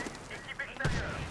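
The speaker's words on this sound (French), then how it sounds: "la grenade qui est pétée à côté de moi." A grenade explodes close by in the shooter game Medal of Honor Warfighter, a sudden loud broadband blast rolling into rumble after a stretch of gunfire-like game noise and faint voice.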